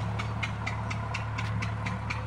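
A farm engine used for pumping water chugs steadily at idle, a low hum underneath with regular rhythmic knocks repeating about four times a second, close and continuous.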